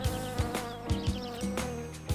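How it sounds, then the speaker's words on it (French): Gnats buzz in a cartoon, a dense droning hum with rhythmic pulsing swells, loud and close, with no talking over it. "Mais les moucherons, ils ont tout gâché."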